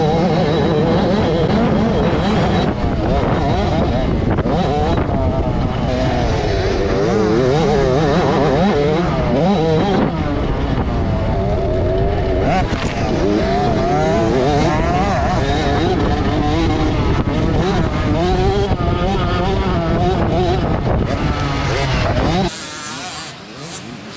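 Motocross motorcycles racing on a dirt track, engines roaring loud and continuous with rising and falling revs as riders pass, the din cutting off abruptly near the end.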